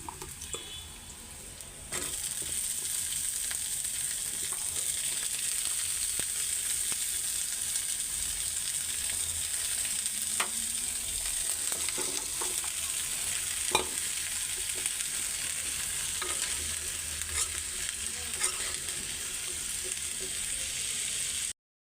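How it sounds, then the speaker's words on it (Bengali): A vegetable bhaji of onion greens fries in a pan, sizzling steadily at close range with intermittent stirring clicks and scrapes. "মাছ ভাজা শেষ তো এখন ভাজিটা বসায় দিতেছি"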